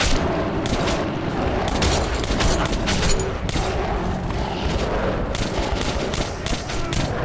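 Dense gunfire in the video game Metro 2033, rapid bursts of automatic shots and booms crowding together in a loud, continuous barrage with no pauses.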